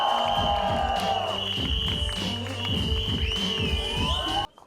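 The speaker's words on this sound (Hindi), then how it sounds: "मनु ऋषि सर के लिए जोरदार तालियां" Audience at a film trailer launch applauding and cheering for actor Manu Rishi, dense clapping and crowd noise under music and a voice, ending abruptly.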